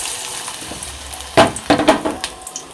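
Hand-flattened dough pieces dropped into hot oil, giving a sudden burst of sizzling frying that rises sharply and then crackles on in uneven pulses, close and fairly loud, with no talk.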